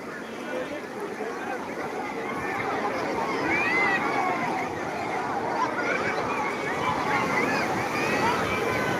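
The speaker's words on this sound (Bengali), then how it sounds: "বিশাল বড় বড় এক একটা ঢেউ এক এক সময় বিশাল বড় বড় রূপ নিয়ে আসছে" Large sea waves rolling onto the shore at Digha beach, a steady loud surf wash with wind across the microphone and a voice talking over it.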